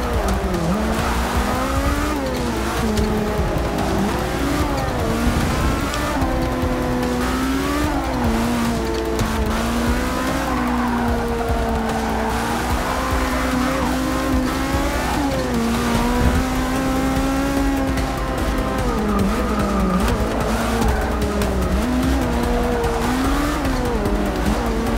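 Race cars in Forza Motorsport 6 scream at high revs through a loud, continuous stretch of gear shifts and tire squeal, with engine pitch repeatedly rising and falling and no talking.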